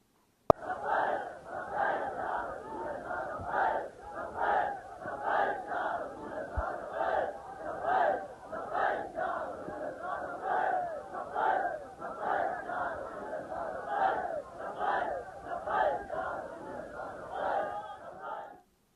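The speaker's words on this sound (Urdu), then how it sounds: "اس ہجوم کی جو وہاں پر نعرے بازی کر رہا تھا" A large crowd chants slogans in rhythmic unison, with repeated shouted phrases rising and falling in a steady cadence for the whole stretch, loud and sustained.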